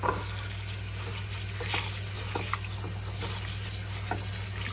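Water splashes and trickles steadily as rice is swished and rinsed in a bowl, with soft patters and a low hum behind.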